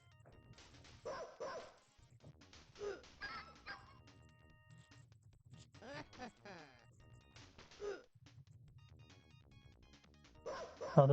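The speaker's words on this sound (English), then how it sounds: "Oh, this follows the tradition of dog noises." Dog noises in a video game, repeated barks, yips and whimpers in bursts over a low hum, some near and loud, with brief talk between them.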